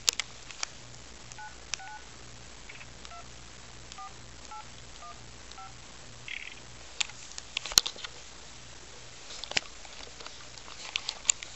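A telephone keypad dials a prank call, sounding a short run of separate touch-tone beeps in small groups over quiet room noise, with a few faint clicks and taps.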